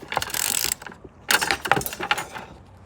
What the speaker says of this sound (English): This just clips on to the pipe like so, and then you just turn, ratchet, and that will cut the pipe beautifully.